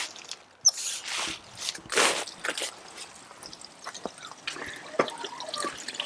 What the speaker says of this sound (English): simply put some water in there